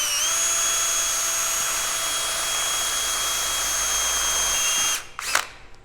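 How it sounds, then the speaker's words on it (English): A power drill whines steadily at high pitch while drilling holes in metal for welded flower art, loud and continuous for about five seconds before winding down and stopping with a brief clatter. "right now I'm going to drill some holes out so I can get the final assembly done here"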